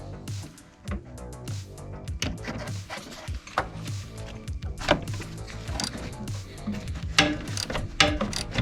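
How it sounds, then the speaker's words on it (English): A ratcheting wrench works 13 mm master cylinder bolts loose on a 1991 Jeep Wrangler YJ, with quick clicking ratchet bursts and metallic knocks in irregular runs, close up and with no talk. "I have a ratcheting wrench here"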